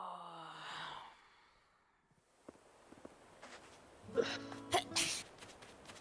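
A single sharp sneeze bursts out near the end after quiet rustling and faint breathy sounds, with a short voice earlier, during Animal Crossing gameplay.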